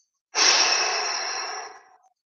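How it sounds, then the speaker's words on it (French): One long, deep exhale through the mouth during a morning breathing ritual, close and airy, starting abruptly and fading out gradually over about a second and a half, with silence before and after. "Et à bien expirer par la bouche. À chaque inspire, tu inspires de plus en plus profondément."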